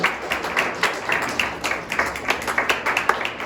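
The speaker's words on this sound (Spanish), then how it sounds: "Den un aplauso, Señor" Congregation clapping in a church service, a fairly small group giving distinct, uneven hand claps that repeat steadily at moderate loudness for a few seconds.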